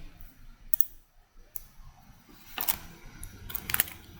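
Several sharp mouse clicks on a computer, made while confirming OK in backup software, sounding close and dry against quiet background noise, with no one talking.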